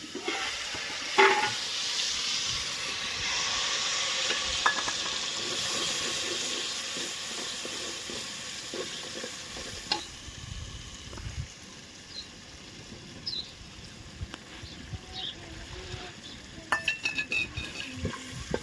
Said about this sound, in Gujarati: હવે ડાયરેક્ટ નાખવાનો છે વઘાર આપણે જોઈ લે કેવી રીતે નાખે છે વઘાર